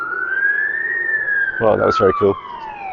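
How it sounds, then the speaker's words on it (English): A Welsh ambulance siren wails as it passes along a street, one long sweeping tone that rises and then falls in pitch, fairly loud, while a person speaks briefly over it. "And here come the Welsh police. Oh no, ambulance."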